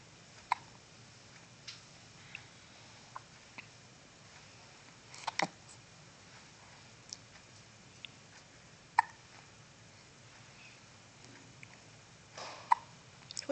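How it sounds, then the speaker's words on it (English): A baby lying in a nursing pillow hiccups repeatedly, with small faint clicks spaced irregularly over a quiet, steady background. "You got the hiccups."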